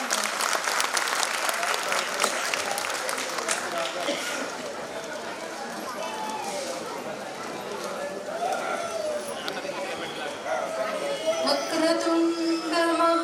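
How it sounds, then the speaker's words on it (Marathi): An audience at a community ceremony claps to welcome an honored guest, sustained crowd applause that slowly thins out as chatter and voices rise near the end. "टाळ्या वाजवून त्यांचं स्वागत करावं"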